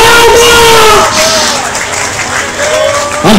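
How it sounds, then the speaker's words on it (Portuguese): A church congregation applauds in a dense, steady wash of clapping and cheering that fills the space, with voices calling out and a preacher's shouts riding over the crowd. "Aplauda!"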